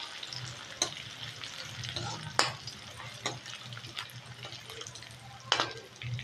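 Crushed garlic frying in oil until golden, a steady sizzle running throughout with a few sharp clicks and taps from the pan.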